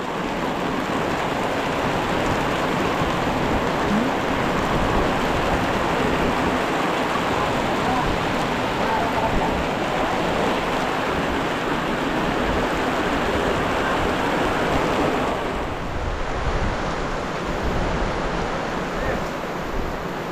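Heavy rain pours without a break for twenty seconds, a thick roaring wash that stays loud and steady. Around the three-quarter mark the texture shifts slightly.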